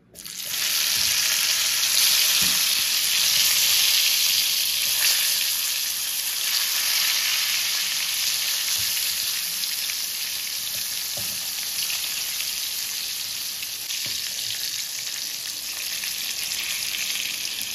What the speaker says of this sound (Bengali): এবারে ফ্রাইং প্যানে তেল দিয়ে দিয়েছি, তেলও গরম হয়ে গেছে, বেগুনগুলোকে ভাজবো।